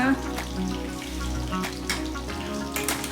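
Chicken pieces frying in a pan over a medium flame give off a steady, close sizzle and crackle that continues without a break.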